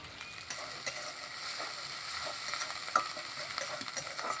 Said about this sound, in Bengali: কি ফাটছে ফটফট করে, আর গায়ে পড়ছে দমে।